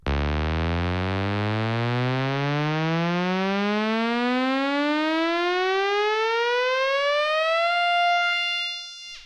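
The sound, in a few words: synthesizer riser with slow attack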